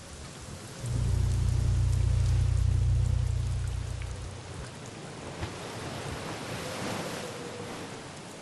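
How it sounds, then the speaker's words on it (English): Steady rain falls outside, a broad hiss of drops with a heavy low rumble swelling in the first few seconds and then easing off, continuing evenly and fairly close with no talking. "I can hear the rain that's actually happening"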